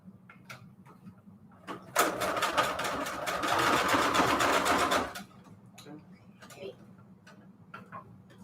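A sewing machine stitches around a mason jar embellishment for a junk journal, running in a fast, even rattling burst of about three seconds before stopping, with faint clicks and handling noises before and after.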